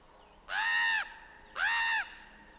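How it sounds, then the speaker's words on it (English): Two loud, harsh crow caws sound close by in the morning, each about half a second long and separated by a short gap, with no other sounds. "Crows are squawky this morning."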